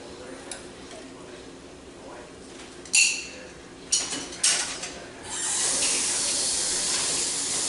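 Ingredients sauté in a pan for anime-style ramen. A few short bursts of hiss give way to a steady, loud sizzle that carries through the last couple of seconds.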